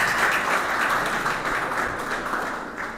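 Loud, close applause from the crowd at an agreement-signing ceremony between a social-services board and parish councils in Pastaza, a thick wash of clapping that stays even and then eases a little toward the end.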